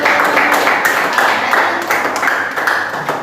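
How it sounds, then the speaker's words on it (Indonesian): A classroom group in an Indonesian school lesson applauds two student groups, steady dense clapping from several people filling the room for a few seconds, with faint voices mixed underneath. "mari kita beri tepuk tangan untuk kita semua, kelompoknya Novel dan Darius"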